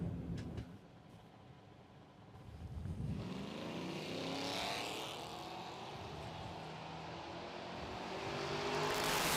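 A Ford Fairlane drag racing car makes a solo bye run at a drag strip at night, its engine roar rising from a distance and holding strong and steady, heard far off with broad ambient noise.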